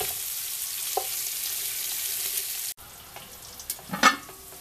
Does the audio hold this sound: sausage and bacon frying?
yes